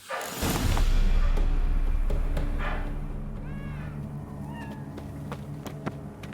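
A cat meows several times in The Witcher 3 game, short rising and falling cries over a loud rumbling ambience that fades, with game sounds underneath.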